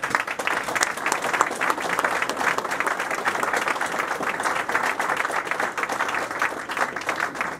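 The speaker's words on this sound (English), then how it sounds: "Let us show our support by giving a round of applause." Sustained applause from an audience honoring Blue Star families at a Memorial Day ceremony, a dense, even wash of many hands clapping that continues throughout.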